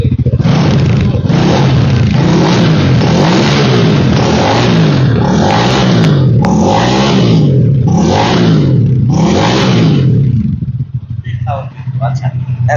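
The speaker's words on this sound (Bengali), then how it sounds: "এই যে, দেখছেন, রিমোটে চাপ দিয়েছে, বাইক কিন্তু স্টার্ট হয়ে গেছে।" Speeder NSX 165R motorcycle, started by remote, revving in repeated surges close by for about ten seconds before dropping to idle, with people talking throughout.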